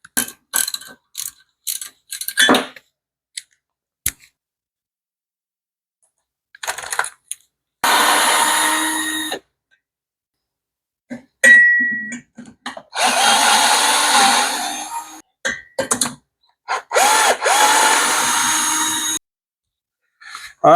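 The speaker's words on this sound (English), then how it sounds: "let's just use the ratchet" A hand ratchet loosens bolts on a Vespa scooter engine during teardown, sounding in several loud, rapid clicking bursts of a few seconds each, separated by pauses and scattered small clanks.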